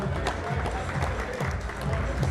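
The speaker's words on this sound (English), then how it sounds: "Let's give them a round of applause, everyone." A crowd at a boxing event in Manchester applauds young boxers from a Liverpool boxing club, a steady wash of clapping that runs beneath someone talking over it.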